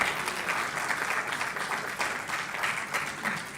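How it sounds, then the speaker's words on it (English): An audience applauds steadily, a dense wash of many hands clapping at an even loudness throughout. "I thought the women would clap for that."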